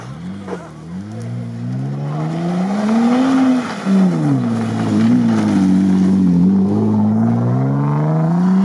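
An off-road Jeep Wrangler Rubicon engine revs hard on an icy climb, rising and falling in pitch with repeated throttle swells, loud and close throughout.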